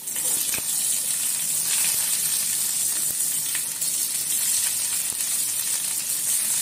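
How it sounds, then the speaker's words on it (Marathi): Onion goes into hot oil for a capsicum bhaji, producing a loud, dense, even hiss of frying that stays unbroken throughout with a few faint stirring ticks. "आता आपण घालूया कांदा"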